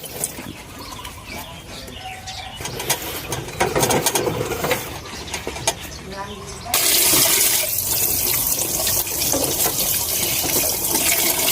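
Water runs and splashes steadily over a mortar being scrubbed with plain water and dish soap, growing louder and more rushing midway, with a voice in the background.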